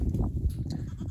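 Goats bleating while establishing a pecking order among males and females, steady overlapping calls at close range with a couple of sharper cries standing out, no talking.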